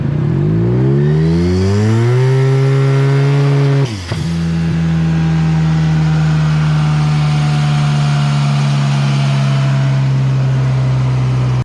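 A Yamaha TMAX scooter with a turbocharged engine revs hard, climbing through rising pitch before a brief drop near four seconds, then holds a loud, steady high-rev drone close by with no talk.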